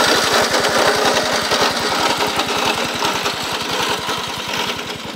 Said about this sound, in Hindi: भाई घास काटने वाली मशीन जो है वो शुरू हो गई है